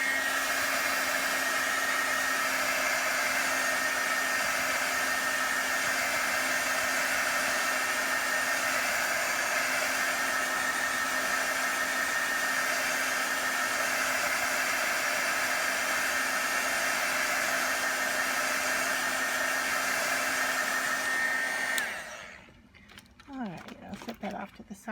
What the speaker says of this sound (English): what I might do here is actually use a heat gun tool just to make sure that I have this dry